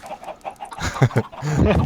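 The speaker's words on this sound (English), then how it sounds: "I accidentally unleashed a hell of a lot of chickens in here as well" Chickens in a Minecraft chicken farm inside a video game, giving a burst of close, overlapping clucks and squawks that grows busier over two seconds.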